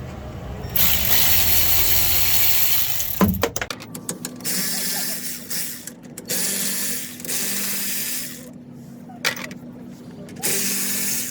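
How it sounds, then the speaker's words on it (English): Hand ratchet spinning differential cover bolts out on a 2006 Dodge Ram 1500, a close, steady clicking that stops and starts in several bursts under low background noise. "What I'm gonna do, use my ratchet to take them all off."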